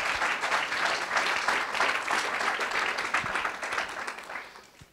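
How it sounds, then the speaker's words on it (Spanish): Church congregation applauding during a revival service, a steady wash of many hands clapping at moderate distance that swells slightly and then fades toward the end. "Give that big applause to the Lord."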